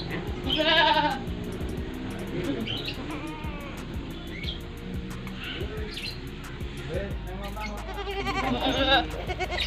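Goats, breeding does with their kids, bleat repeatedly in a pen, the calls overlapping at close range amid chirping birds, with people talking in the background.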